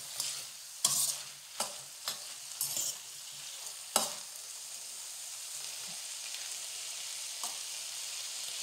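Chicken and vegetable noodles fry in a pan with a soft, continuous sizzle, broken by several sharp scrapes and clatters of a utensil stirring and tossing them, quiet and close.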